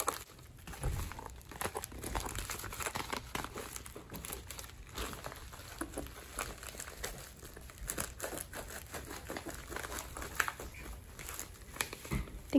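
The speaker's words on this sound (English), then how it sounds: "I don't know why I'm having so much trouble cutting into these packages" Rough crinkling and crunching of plastic packaging for Nintendo Switch accessories as scissors cut into it, with scattered snips and rustles throughout, close and fairly busy.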